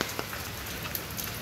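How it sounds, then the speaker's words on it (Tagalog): Steady rain falls under overcast skies, a dense even hiss of drops striking surfaces with occasional louder taps, continuous and moderately quiet with no voices. "Napakakulimlim guys ng panahon ngayon, kasi alam naman ninyo, sabi ko nga umuulan."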